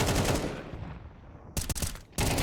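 Rapid, loud gunfire bursts in a Counter-Strike match on the Ancient map, with a sustained volley at the start and two short sharp bursts near the end.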